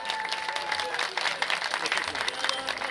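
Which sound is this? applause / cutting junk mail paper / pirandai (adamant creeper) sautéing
applause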